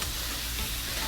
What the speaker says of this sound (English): That is really hot, so we should get a nice little sizzle.